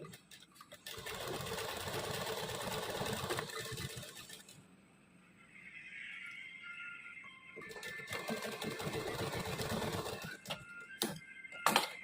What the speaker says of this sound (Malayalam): ഞാനിപ്പോൾ ഇവിടെ ഒരു സ്റ്റിച്ച് ചെയ്യുന്നുള്ളൂ.